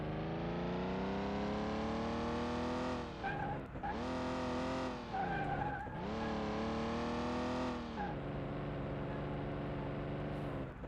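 Milk truck engine in Car Mechanic Simulator 2021 roars steadily at high revs, dips twice as it brakes and drops gear, surges back, then settles to a lower drone; loud and continuous with no talk.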